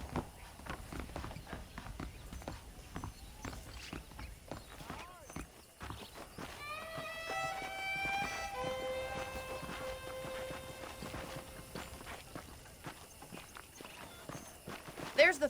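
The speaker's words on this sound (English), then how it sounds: "The horses are saddled up over here." Hooves clip-clop at a steady walking pace in the video game Red Dead Redemption while a voice speaks over them, and a horse briefly whinnies midway.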